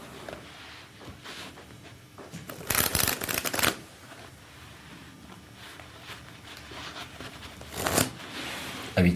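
Playing cards being shuffled in two crisp, riffling bursts close up, the first longer and louder, with quiet handling rustles between them.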